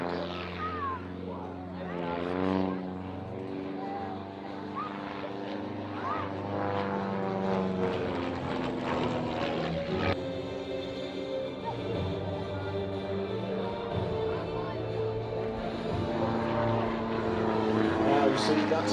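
Propeller aeroplane flying aerobatics at the Tatenhill Air Display, July 2013, its engine note rising and falling with Doppler sweeps as it climbs, rolls and passes, under a commentator speaking over a public address.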